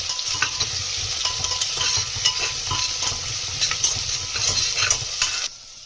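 Sweet potato pieces roasting over a low flame for a Sindhi sweet potato dessert, with a steady close sizzle and repeated scraping stirs of the spoon throughout, without any voices.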